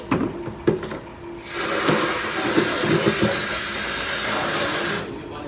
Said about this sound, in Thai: เราก็ต้องล้างถังน้ำด้วยก่อนที่จะเก็บเข้าที่ให้เรียบร้อย